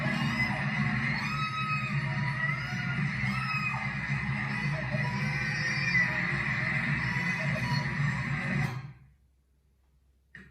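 Synthesized horse whinnying from a purple horse meme plays as a sustained, wavering neigh, loud and up close, for about nine seconds before cutting off abruptly into near silence.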